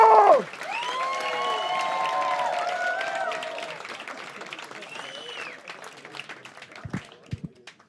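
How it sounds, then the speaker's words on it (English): A comedy club audience in Liverpool breaks into cheering and whistles, then settles into sustained clapping that gradually thins out and fades to a few scattered claps. "Start the clapping."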